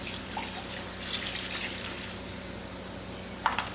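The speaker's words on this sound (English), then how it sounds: "Along with that coconut milk, we also need water." Water poured into a pot already holding coconut milk for a Caribbean callaloo, a faint, steady wash of running liquid with a brief splash near the end.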